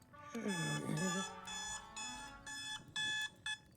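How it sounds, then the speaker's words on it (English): An alarm goes off with a repeating electronic beep pattern in evenly spaced bursts, preceded by a brief burst of voice, fairly close and steady. "I had a random alarm"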